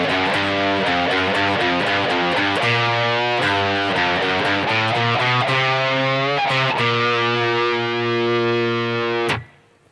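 An overdriven electric guitar runs through a full part for about nine seconds: a loud, close, continuous string of picked notes that cuts off abruptly near the end.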